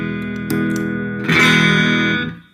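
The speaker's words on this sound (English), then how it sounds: "Here's the gain all the way up. I'm playing a Stratocaster right now." A Stratocaster electric guitar runs through a Delyk Super 4 pedal with the gain fully up, giving mildly overdriven sustained notes: a held chord, a pick attack, then a louder strummed chord that rings and fades out.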